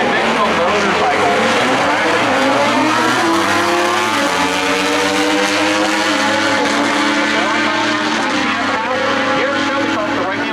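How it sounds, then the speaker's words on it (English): Ducati motorcycle in naturally aspirated stock drag racing at Shelby, its engine droning loud and continuous with rising and shifting pitch, crowd and track noise around it and a voice talking over the top. "Reed up on the Ducati. This is a very unconventional motorcycle."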